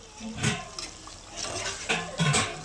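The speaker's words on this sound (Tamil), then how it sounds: "இன்னொரு 1/2 டம்ளர் தண்ணி ஊற்றிங்க போதும்" Half a tumbler of water is poured into a chicken gravy in a few short splashing gushes, close and moderately loud, with brief pauses between pours.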